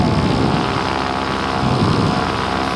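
A light aircraft taxiing to the runway gives a loud, steady propeller engine drone, close and continuous throughout.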